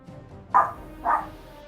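Two barks from a dog, evenly spaced and of similar strength, heard fairly close over a low, quiet background.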